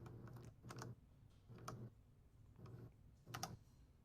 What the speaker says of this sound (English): I pressed F11 thinking that was a keybind